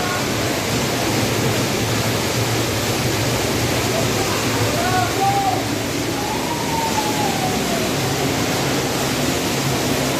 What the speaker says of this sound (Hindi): ये देखिए नीचे की ओर एक झरना है